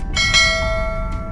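A bright notification bell sound effect rings out with two quick strikes near the start and a lingering tone, followed by a faint third chime, alone without talk.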